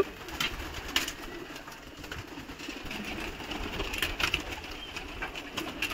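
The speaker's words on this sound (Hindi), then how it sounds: "देखो ये कबूतर देखो, ये भी बहुत ही सुपर डुपर हिट कबूतर है।" Madrasi pigeons at a pigeon seller's loft coo softly amid steady background noise, with a few brief louder calls standing out over the continuous hum.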